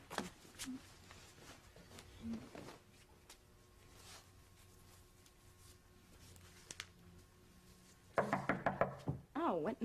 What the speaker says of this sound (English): You don't have to knock.